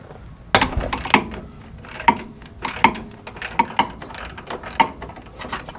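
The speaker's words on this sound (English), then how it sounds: "the first thing that we're going to want to do on this install is remove the track bar bolt on the frame side" A ratchet working the frame-side track bar bolt on a Jeep JK, a close run of sharp metallic clicks and clunks at uneven intervals, with no talking.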